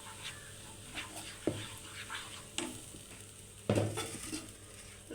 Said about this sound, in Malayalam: ഇളക്കുക.